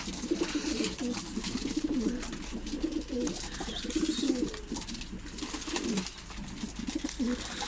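Pigeons cooing steadily on a snowy balcony in Ankara as they are fed rice, a continuous chorus of low rolling coos close by, with faint higher chirps and background hiss.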